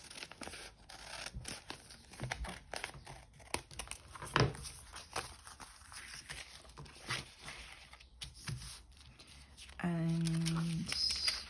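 Scissors snip through a paper window envelope in a series of short, crisp cuts with crinkling paper, faint and close, while a person talks over them.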